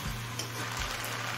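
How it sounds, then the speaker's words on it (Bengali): Navaratna polao being stirred in a pan over a high gas flame, giving a steady close sizzle and soft scraping with a constant low hum underneath, no voices. "গ্যাসের ফ্লেম হাইতে করে দিয়ে একটু নাড়াচাড়া করে নিলাম।"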